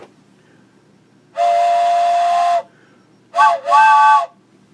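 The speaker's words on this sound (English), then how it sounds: "how about more train whistle?" A steam train whistle sounds in a long, loud, steady blast. After a pause it gives two shorter, close-spaced toots, and there is no talk over it.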